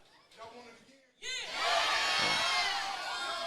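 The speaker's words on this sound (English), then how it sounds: "A resounding yes from this crowd here in Oklahoma City." A pro wrestling crowd in Oklahoma City roars a loud, long chant of approval. It follows a brief stretch of talk, then swells into sustained cheering and whoops from the whole arena.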